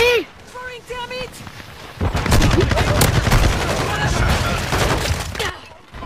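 Gunfire in Call of Duty Modern Warfare 2 erupts in a dense, loud burst of rapid shots lasting several seconds, preceded by a brief stretch of voices.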